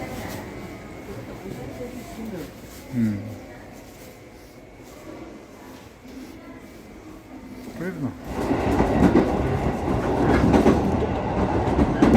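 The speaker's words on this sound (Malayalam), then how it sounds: "ട്രെയിൻ അങ്ങനെ കുസാറ്റ്സുവിലേക്ക് പോയിക്കൊണ്ടിരിക്കുകയാണ്." A train to Kusatsu, Japan rumbles along the rails with rhythmic clatter, growing louder and heavier toward the end, with faint voices early on.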